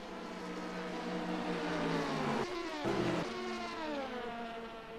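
Race cars in a sports car endurance racing video game at Spa, engines droning loudly together with rising and falling pitch as cars run close in a slipstream, a brief shift in tone midway.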